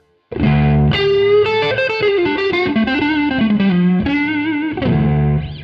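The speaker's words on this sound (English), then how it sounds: "It's got a little bit of overdrive there." A mildly overdriven electric guitar plays a chord-based phrase, loud and close, with a slight gritty edge and sustained ringing notes, no voices.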